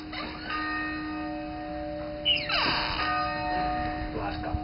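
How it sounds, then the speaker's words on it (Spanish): Church bells ring out over a steady background hum, with a sweeping tonal chime rising in the middle of the ringing and voices faintly present. "Las campanas."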